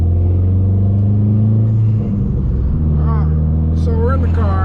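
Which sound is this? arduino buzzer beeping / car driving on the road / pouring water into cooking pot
car driving on the road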